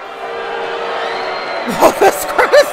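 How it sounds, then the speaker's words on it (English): Crowd noise fills a WWE 2K arena in Universe Mode during an NXT show, a steady roar that swells into rising whoops and cheers near the end, loud and close. "This crowd is not letting him speak."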